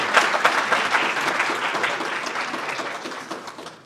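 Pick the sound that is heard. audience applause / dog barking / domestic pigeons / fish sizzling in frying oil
audience applause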